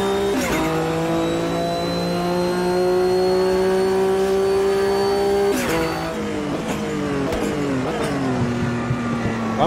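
Race cars in Automobilista 2 at Montreal in a World Sportscar Championship event: steady high-revving engine drone with gear shifts and revs rising and falling, several cars passing close, continuous and loud with no talk.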